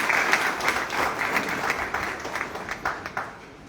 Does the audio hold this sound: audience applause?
yes